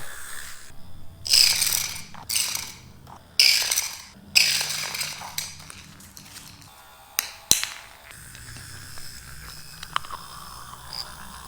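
The two motors of a small Joy-Con-controlled robot prototype run with a low steady hum under bursts of ratcheting, clicking and gear-like rattles, quiet and close, with a sharp tick near the end.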